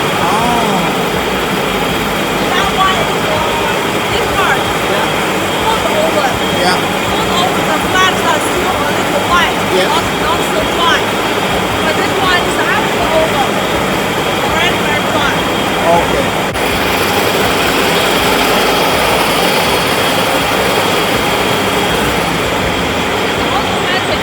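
Wire straightening machine running in a welding rod factory, a loud steady mechanical whir and rattle filling the whole stretch, with people talking over it.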